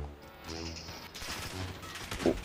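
Gunfire from the Call of Duty: Modern Warfare video game, with shots coming through a house during a match: a dense, continuous burst of gunshots lasting a couple of seconds, moderately loud, peaking near the end.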